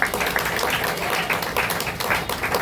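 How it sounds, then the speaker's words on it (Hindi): An audience at a spiritual discourse claps together in a dense, continuous burst of applause, loud and close, lasting a couple of seconds without pause. "तो अपने लिए ताली बजा दो"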